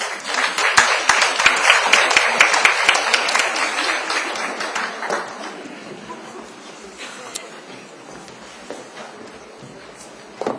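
Loud applause fills a church gathering as a woman comes up to speak at a QT school graduation, strong at first and then gradually thinning and fading toward a few scattered claps.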